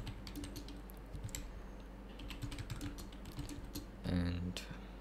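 Keys on a computer keyboard clatter in a quick, uneven run of taps as a prompt is typed, close and fairly quiet, with a few heavier strokes near the end.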